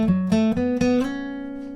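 A clean guitar plays a lick from a song, a few quick picked notes with hammer-ons that end in a slide into a sustained ringing note. It sounds close and moderately quiet, with no voice over it.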